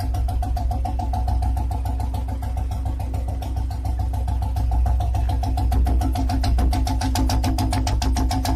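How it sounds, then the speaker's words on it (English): A motorcycle engine idles steadily, a low rhythmic putter with a mechanical hum that stays at an even, moderately loud level throughout, with no talking. "Motorcycle."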